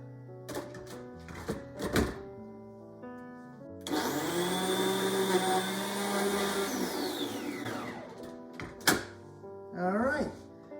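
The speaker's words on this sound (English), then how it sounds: "You just throw those in the blender and blend it." A kitchen blender whirs loudly for about four seconds, churning ice cream, orange sherbet and orange soda into a milkshake, then winds down; brief clunks and other intermittent sounds occur before and after.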